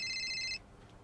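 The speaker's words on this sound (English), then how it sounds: "Don't you want to answer your phone?" A telephone rings with a bright electronic trill for about half a second, then stops, leaving quiet room tone behind.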